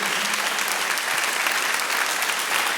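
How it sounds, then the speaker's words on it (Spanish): A church congregation applauds loudly, dense steady clapping from many hands filling the room without pause for a few seconds. "Da un aplauso fuerte a nuestro Dios."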